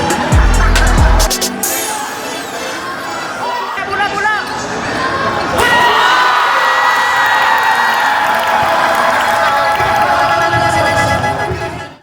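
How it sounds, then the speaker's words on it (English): A crowd screams and cheers at a basketball tournament championship game in Cebu, Philippines. The roar stays loud and sustained throughout, with whoops, shouting and a bouncing ball audible through the noise. "We were all screaming so loud"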